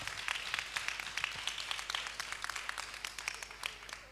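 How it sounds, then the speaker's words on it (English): A crowd claps steadily for several seconds, a dense patter of applause that stays fairly even throughout. "Give them a round of applause."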